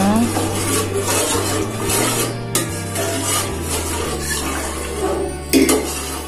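A spoon scrapes and stirs coconut milk inside a pot over medium heat, with a few sharper knocks against the metal over a low background hum.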